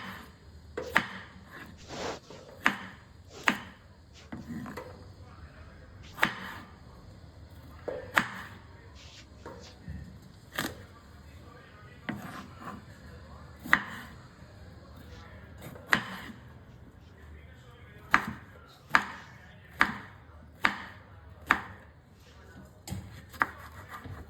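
A knife chops ridge gourd into medium pieces on a board, producing sharp, close, irregular knocks spaced about a second apart over a quiet background.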